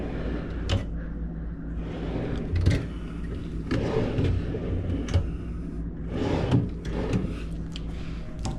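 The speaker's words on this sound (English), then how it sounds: "you get your little 3 drawers here, which I think is really cool, and they all kind of slide out" Three small drawers in a hotel room pantry slide out and back in. The rolling, rumbling slides are close and moderately loud, each ending in a few light knocks against a steady room hum, and no one talks.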